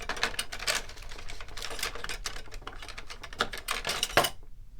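Scissors snip through a thin strip of dimensional tape on a scrapbook layout, a quick series of close, crisp cuts and rustles, ending in a sharp snip before a drop to silence.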